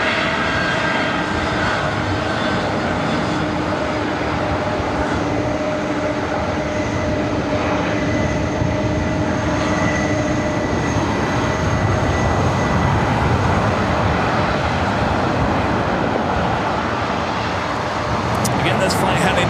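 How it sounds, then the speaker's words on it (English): Boeing 767 jet airliner, delivered in 1996, at LAX airport, a loud continuous roar of jet engines with sustained whine tones, steady throughout with no break. "This flight heading to Honolulu, flight 465. 767 delivered in October 1996."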